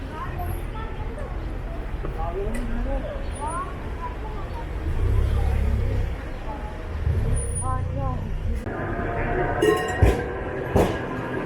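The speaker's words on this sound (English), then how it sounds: "He has his own tram, tiny and cute" A small tram passes through the streets of Moda in Kadıköy, Istanbul, its low rumble and metallic clinks rising amid street ambience, with people talking nearby throughout.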